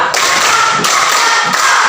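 Students in a classroom ice breaker clap out a rehearsed pattern, producing three spaced, punchy bursts of group hand clapping over a busy background hiss.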